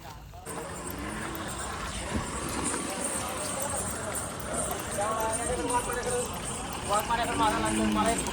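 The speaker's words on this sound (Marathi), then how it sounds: "जातील इथून बैल आता शर्तीला" Bulls charging off in a bullock cart race at the Ekvira Kesari ground, hoofbeats thudding amid a loud, continuous crowd roar, with people shouting and talking throughout.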